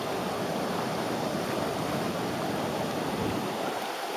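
Pacific Ocean surf at Playa Reyna in Mariato, Panama, where a strong current pulls the waves: a steady, loud, broadband wash of breaking water with no pauses, heard close by and alone.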